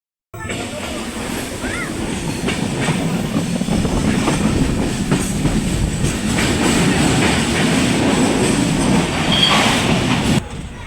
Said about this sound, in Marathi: बोगद्यातून बाहेर पडलो, गाडी आपली बोगद्यातून बाहेर पडली